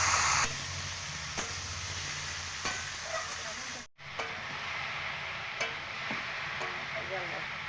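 Pumpkin and potato curry being stirred in a pan, soft scraping strokes recurring every second or so over a steady low sizzle, close and fairly quiet, with a brief dropout midway.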